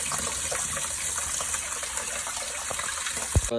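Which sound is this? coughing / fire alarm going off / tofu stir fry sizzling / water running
water running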